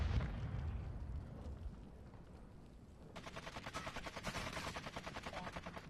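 Rapid automatic gunfire in a smoke-filled video game match, starting partway in as a steady stream of close, evenly spaced shots over a low rumble, with no talking.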